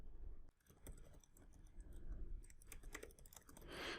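Someone typing on a computer keyboard, close and quiet, with irregular bursts of key clicks and a short pause near the start.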